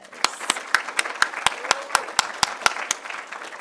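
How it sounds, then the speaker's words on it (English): Steady, evenly spaced claps ring out at university final presentations, about a dozen sharp hits in a regular rhythm over a faint background murmur. "Let's give everyone another round of applause."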